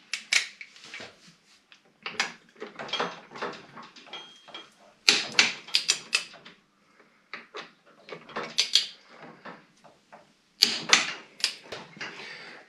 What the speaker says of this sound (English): The screws that hold the brake calipers are tightened to 45 newton meters.